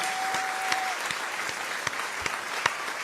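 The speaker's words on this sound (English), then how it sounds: "He showed up because he wanted applause on his entrance." Studio audience applause greets a late arrival on a talk show, a steady wash of clapping with a few sharper claps and whoops standing out, loud and close, with no talking over it.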